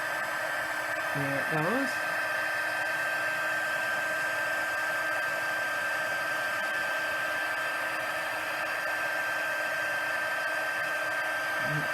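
An embossing heat tool blows steadily at close range throughout, a constant whirring hiss used to heat set embossing powder, while someone speaks briefly over it.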